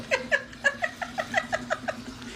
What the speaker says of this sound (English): My cat first time hearing the bath.